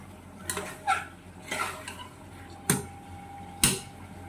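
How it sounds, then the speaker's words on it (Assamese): A spoon stirs meat in a cooking pot in a home kitchen, making about five separate scraping, clinking strokes against the metal, spaced out over a quiet background. "মাংসটো লৰাই দিছো"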